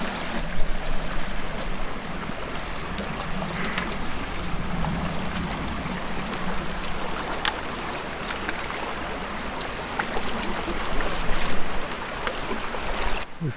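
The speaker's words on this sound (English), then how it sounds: "this is the creek" Manzana Creek in Los Padres National Forest running high after heavy flow, a continuous close rushing wash of water with steady splashing texture throughout.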